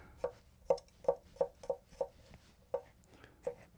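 A hand-forged Enso Aogami Super 9.5-inch kiritsuke knife slicing grapes on a board: a quiet, close series of about nine crisp, evenly spaced taps.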